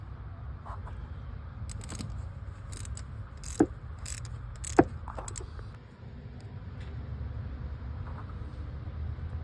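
A socket wrench ratchets on spark plugs in a 2005 Dodge Ram 1500 engine bay. A few sharp metallic clicks and clacks sit over a steady low rumbling background.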